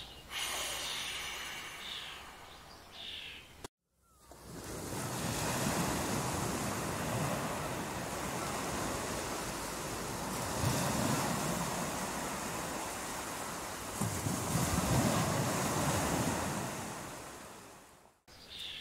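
Ocean surf and stormy wind roar as a broad, loud, continuous wash of noise, with swells rising and falling over about fourteen seconds, framed by a shorter gust-like burst at the start.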